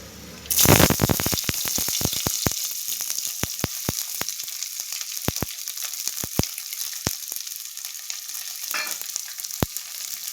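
Finely chopped onions hit hot frying oil with a sudden loud burst of sizzling that settles into a steady hiss, dotted with sharp crackles and pops.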